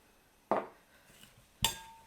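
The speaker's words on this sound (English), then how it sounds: "Okay, in go the spices." Spices going into a pan while spicy preserved lemon is being made, heard as two distinct clinks and clatters of a utensil or container against cookware, about a second apart, close and fairly loud with quiet between.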